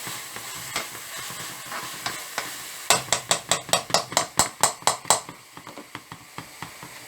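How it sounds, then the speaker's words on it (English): Ginger, garlic and green chilies fry with onions in a pan under a constant sizzle, punctuated by a quick run of about a dozen sharp rhythmic taps of a spatula against the pan. "Now I added the ginger, garlic and green chilies, and I'm frying it."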